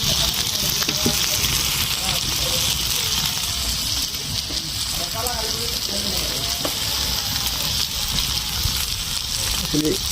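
Food sizzling and frying over a wood-fired clay stove, a steady broadband hiss with occasional stirring clatter, continuous and fairly close throughout.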